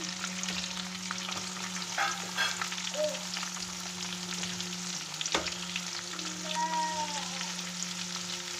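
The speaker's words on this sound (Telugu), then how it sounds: "కరివేపాకు వేసి కొద్దిగా ఫ్రై అవనివ్వాలి తర్వాత ఆనియన్స్ సన్నగా కట్ చేసి పెట్టుకున్న ఆనియన్స్ వేయాలి" Curry leaves and onions frying in hot oil make a steady, close sizzle that runs throughout, with a few soft stirring knocks over a constant low hum.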